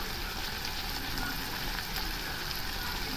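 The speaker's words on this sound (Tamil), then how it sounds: "நான் இப்போ கொஞ்சமாக தேங்காய் எண்ணெய் நான் ஊற்றிக்க போகிறேன்" Coconut oil heats in a hot pan for drumstick leaf kootu, giving a continuous, even frying hiss with no distinct pops, steady and close throughout.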